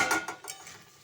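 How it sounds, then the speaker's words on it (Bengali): A metal lid lifts off a cooking pot with a few quick clinks and a short scraping rattle, close and fairly loud, fading within a second. "আমার এবার ঢাকনাটা আমি খুলে দেখব ভাজা হয়েছে কিনা।"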